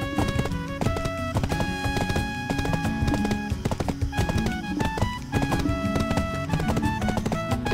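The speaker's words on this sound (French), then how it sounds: "Je vais bien le faire sprinter, le cheval, ou pas?" A horse gallops in the online game Black Desert Online, its steady, rapid hoofbeats running on without a break under loud, busy music, with no talking.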